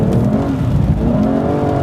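The huge V12 engine of an Aston Martin V12 Vantage Roadster drones loud and close under sustained revving, a deep, steady growl with layered harmonic whine holding for the full couple of seconds.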